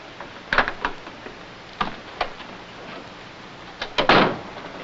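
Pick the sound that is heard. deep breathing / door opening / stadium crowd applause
door opening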